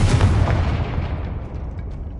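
A Confringo fire spell explodes in the Hogwarts Legacy video game, a single loud, close boom that fades into a rumbling, crackling tail over about two seconds.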